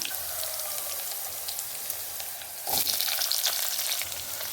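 Onions, chili and spices frying in hot oil for a sardine dish make a dense, continuous sizzle that swells louder partway through as more goes into the pan.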